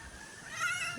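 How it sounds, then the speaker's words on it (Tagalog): A short, wavering goat bleat rises midway through, nasal and fairly close, over a faint background hum. "Ay, may alaga na uli si Dagay o kambing."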